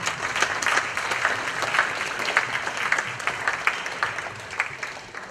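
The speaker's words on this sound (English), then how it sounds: "So big round of applause to the parents." Steady audience applause at a music festival concert, a dense wash of clapping from many hands that holds at an even level throughout and tails off slightly at the very end.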